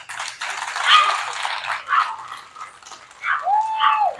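A dog at an outdoor political rally gives high yips and whimpering whines in close, uneven bursts, ending in a rising then falling howl-like cry, with no talking.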